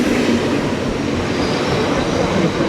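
Train ride in to Monaco during the Formula 1 race weekend, a steady loud rumble of rail carriage wheels and clatter running continuously throughout, with no talk.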